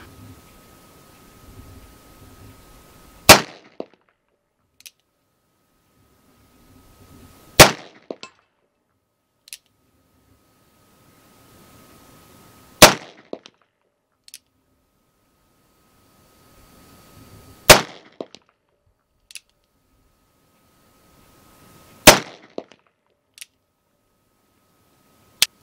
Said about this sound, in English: today I'm shooting the Cimarron 1860 Army Type 2 conversion in 45 long colt, and I'm going to shoot it at 100 yards